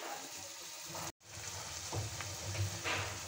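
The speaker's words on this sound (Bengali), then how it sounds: "এখন আমি ভেজে নেব।" Spices frying in a pan for an eggplant and pangas fish dish, a continuous close sizzle with light crackling and a brief dropout partway through.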